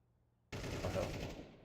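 AK rifle fire in the video game Counter-Strike 2 breaks in suddenly after near silence, a loud sustained rapid-fire burst of shots that continues to the end.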